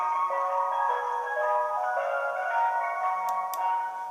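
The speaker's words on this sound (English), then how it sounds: "That's the ice cream van." A tinkly ice cream van chime from a Class 68 model locomotive's sound system plays a short melody, steady and moderately loud, ending with a couple of faint clicks.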